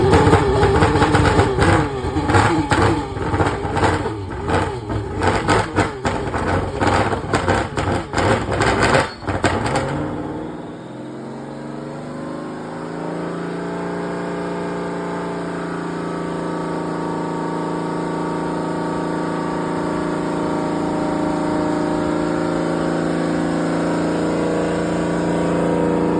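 A 2018 Dodge Durango R/T fitted with a Whipple supercharger, not yet tuned, revs hard in loud choppy bursts for about ten seconds, then settles into a steady, close, rumbling idle.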